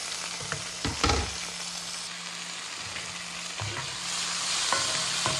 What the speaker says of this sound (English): So we're just gonna give that a quick sear